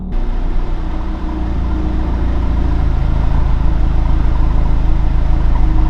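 An Audi TT MK3 engine idles steadily after a cold start, a continuous low drone holding even and fairly loud without talk.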